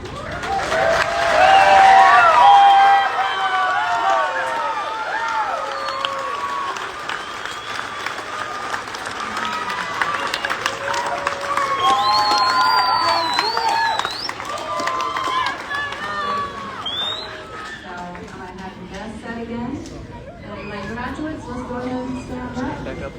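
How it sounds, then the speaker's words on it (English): A graduation audience at a college campus ceremony gives a long round of applause for the graduates, with whoops, cheers and voices rising over sustained clapping that thins out toward the end. "let's give a big round of applause celebrating our graduates"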